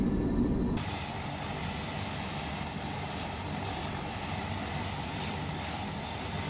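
An engine on an Air Chathams 1957 Convair CV-580 turboprop airliner starts up, and within a second a loud, broad roar with a high whine builds and holds steadily near by.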